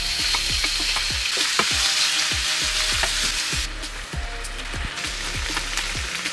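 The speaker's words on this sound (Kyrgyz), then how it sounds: "Көштү сковородкага салып кууруп алабыз." Meat sizzles and fries in oil in a frying pan, a steady crackling hiss broken by repeated sharp pops and spatters, close and loud with no voices.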